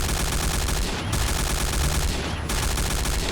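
Sustained automatic fire from a G36C rifle in the shooter game Point Blank, loud and dense, with rapid bursts running almost continuously and a short break near one second and again near two and a half seconds.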